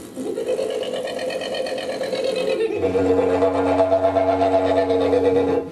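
A didgeridoo drones steadily with buzzing lips, shifting partway through into a deeper, rougher pulsing tone mimicking a kookaburra's laughing call.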